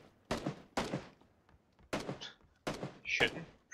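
Bursts of gunfire in the battle-royale video game PUBG, several loud sharp volleys in an irregular rhythm, with bright ringing tails and a few brief flashes of higher metallic noise between shots.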